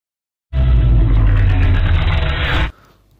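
A Bugatti Chiron Super Sport 300+ engine roars loudly and steadily for about two seconds, then cuts off abruptly, leaving a faint low tail.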